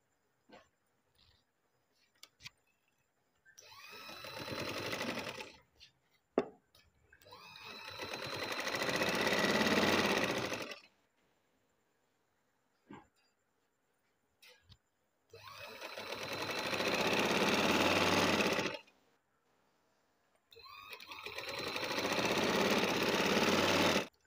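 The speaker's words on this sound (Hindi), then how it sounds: "अब मैं सिलाई लगाऊंगी इधर से" Lace sleeves are stitched on a sewing machine in three separate runs of rapid, whirring stitching a few seconds each, with quiet pauses and small handling clicks between them.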